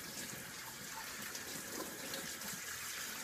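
Tap water runs steadily into a kitchen sink, rinsing a freshly cleaned pheasant, a close, even gushing hiss with no break throughout.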